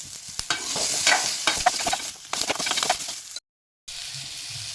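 Tomatoes and onions sautéing in a clay pot for a brinjal oil gravy, giving a steady close sizzle with scraping stirs and clicks, cut by a brief silent gap near the end.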